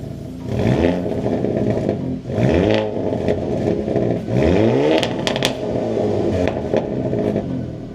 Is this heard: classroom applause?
no